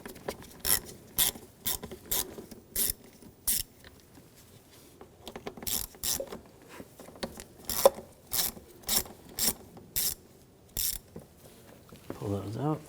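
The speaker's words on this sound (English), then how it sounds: "Take these two screws out, use a T25 socket." A ratchet wrench fitted with a T25 socket backs screws out of a 2007-2013 BMW X5 3.0L inline-six, giving repeated short bursts of close clicking in quick strokes, with brief pauses between them.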